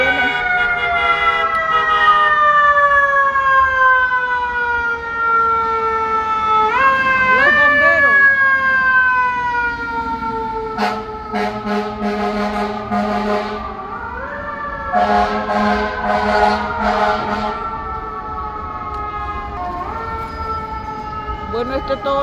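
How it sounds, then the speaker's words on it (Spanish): An emergency vehicle siren wails along a New York street, its loud rising and falling sweeps running the whole time, with a few harsher blaring bursts partway through. "ese sonidito, si no es la policía, es la ambulancia o es los bomberos."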